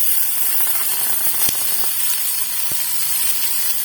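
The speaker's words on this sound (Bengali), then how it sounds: "এবার আমি টমেটোটা অ্যাড করবো," Chopped tomato added to onions already fried in a pan, giving a loud, continuous close-up hiss and sizzle with a few faint clicks throughout.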